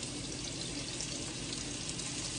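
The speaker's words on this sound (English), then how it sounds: "You hear that sizzle?" Beef tips dropped into hot frying grease for browning give a steady, dense sizzle that runs unbroken and fairly quiet throughout.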